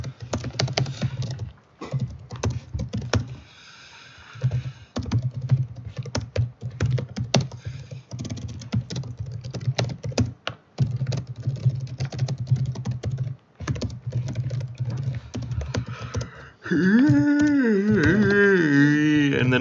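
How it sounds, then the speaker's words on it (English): Steady typing of code on a computer keyboard, dense rapid key clicks with brief pauses, close and fairly loud, then a short burst of other tonal sound near the end. "you get really tired of typing a very lot of code"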